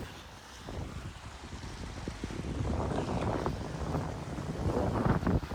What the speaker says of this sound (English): today we have your sort of quintessential 14 to 15 knots on the beam with full sails and flat water